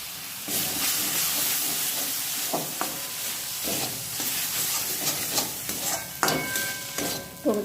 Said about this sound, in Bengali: টমেটোটা থেকে একটু জল বেরোবে, একটু ভালো করে নাড়তে হবে যাতে নিচে পুড়ে না যায় মশলাটা